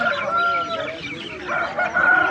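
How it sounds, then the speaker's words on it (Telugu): A rooster crows loudly and close by at a poultry market, one drawn-out call carrying across the whole moment. "ఇది కూడా కోడి పుంజ"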